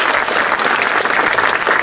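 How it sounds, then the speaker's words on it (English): Audience applause for children at a primary school's official site opening, a loud, dense and continuous burst of clapping from a nearby crowd. "Would you give them a big round of applause?"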